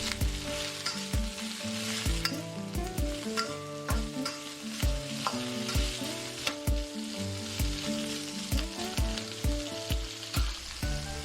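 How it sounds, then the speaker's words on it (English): Ginkgo nuts, baby corn and cooked lotus root are stir-fried for mixed vegetable chap chai, with a steady close sizzle and frequent sharp scrapes and clacks of a spatula against the pan, heard alone with no talk. "Add ginkgo nuts, baby corn and cooked lotus root. Stir fry for another 2 minutes."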